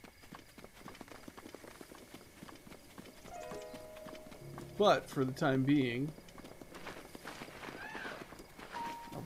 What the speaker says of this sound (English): Riding a horse.